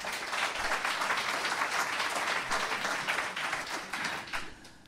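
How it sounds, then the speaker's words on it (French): Audience applause at a Belgian local TV show in Thuin greeting a mayor, dense sustained clapping from a crowd that holds steady for several seconds before thinning out near the end. "Madame la bourgmestre Cosins, on peut l'applaudir."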